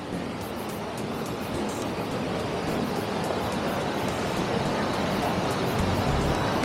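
Manavgat waterfall in Antalya sends out a constant, broadband roar of rushing water, loud and unbroken, with no voices over it.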